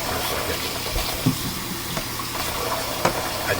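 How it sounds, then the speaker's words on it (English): Water runs from a tap into a sink, a steady close hiss and splash with a few faint clinks of objects, and no talking. "I had to run some water here for a second"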